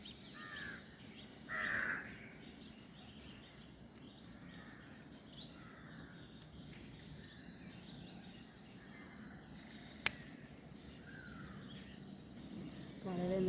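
Crows caw at a rooftop rose garden, a few faint distant calls scattered over a quiet outdoor background with one sharp click, and no one speaking.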